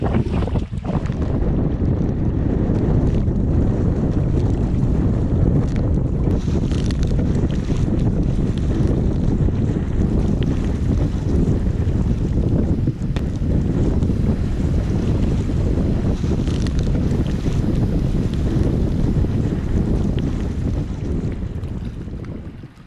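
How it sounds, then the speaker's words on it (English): Strong wind on a lake during a long canoe expedition, roaring steadily with heavy buffeting on the microphone and splashing waves underneath, loud and unbroken for the whole stretch. "it's been 2 days of non-stop wind"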